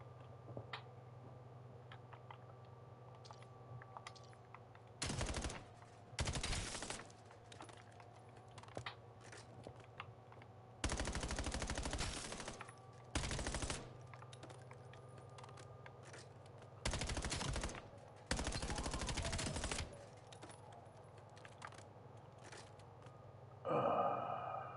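Bursts of automatic gunfire from a hard-to-control gun in a video game, coming in several loud blocks of rapid fire a second or two long, separated by quieter stretches with a low steady hum underneath.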